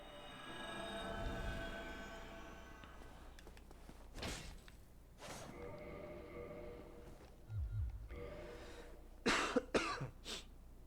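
Someone who is sick coughs repeatedly, with several harsh bursts and some throat clearing spread unevenly over a quiet background. The coughs are near and moderately loud.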